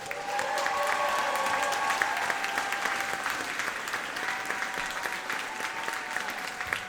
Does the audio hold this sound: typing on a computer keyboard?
no